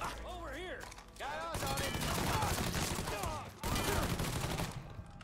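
Bursts of gunfire from a gun in the video game Mafia III, dense and loud, crackling across most of the clip with a short pause midway, mixed with game voices and effects.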